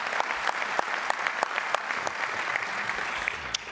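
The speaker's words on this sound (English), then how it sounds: "Can we give a big round of applause to our NLC President, Maria Lopez-Rogers." An audience gives a round of applause for the NLC President at a civic gathering, an even wash of many hands clapping, moderately quiet with scattered sharper claps standing out.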